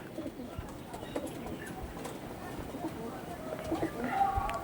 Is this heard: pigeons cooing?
yes